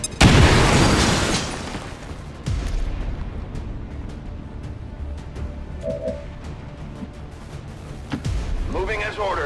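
A frag grenade explodes in the video game XCOM 2, a loud close boom with a rumbling tail fading over a couple of seconds. Smaller thuds and game effects follow, with a brief voice line near the end.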